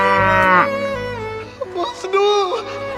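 A local desi cow moos loudly and close by with one long, drawn-out call, followed by people talking nearby.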